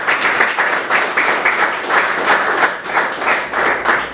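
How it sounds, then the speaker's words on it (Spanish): A church congregation applauding, a dense wash of clapping in uneven swells that rises and dips over a few seconds. "Aplauda al Señor si usted lo está entendiendo."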